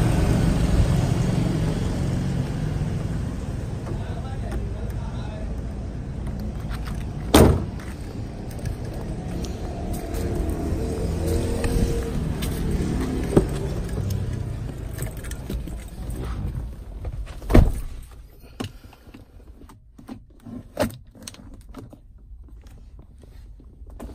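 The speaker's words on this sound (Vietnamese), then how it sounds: "Chạy thử trải nghiệm chiếc xe này xem là nó hoạt động ra làm sao" Cabin sound from a 2011 Hyundai Tucson, imported, with a 2.0 petrol engine, automatic gearbox and four-wheel drive, on a test drive: a steady low engine and road rumble, occasional sharp clicks and thumps, and a quieter stretch near the end, with no voices.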